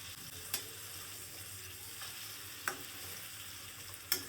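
Shrimp fry in a pan with sautéed tomatoes and seasonings, giving a soft, even sizzle broken by three sharp utensil clicks, the last near the end, with no speech.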